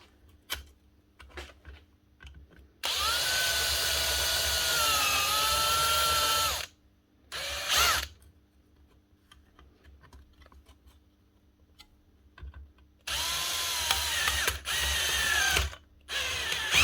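A drill motor powering a Metabo hand-held plastic extruder whirs loudly in two long runs with a short burst between, each starting and stopping abruptly against near silence.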